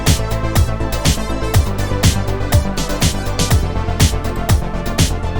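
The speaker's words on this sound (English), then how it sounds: "So using the bass ARP instead of this bass sounds like this" A bass arpeggio synth in a production, its notes stepping in a steady looping pattern, punched by regular bright percussive hits, loud and dense with no voices.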